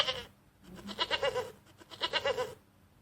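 Goat bleating in a series of wavering, quavering calls, two main bursts close together, fairly near and clear with no talking over them.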